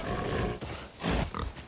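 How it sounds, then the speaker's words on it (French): A boar in the video game Far Cry New Dawn gives a few rough, close grunts and snorts in short bursts, loud against the game's ambient sound. "Mais ton putain de cochon!"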